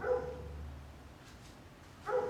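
A dog barks twice in the background, one bark at the start and another near the end, with quiet room noise between.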